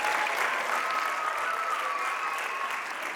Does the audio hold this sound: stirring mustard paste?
no